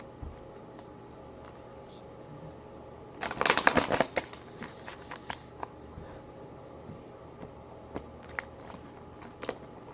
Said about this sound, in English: Let me give it a good shuffle now.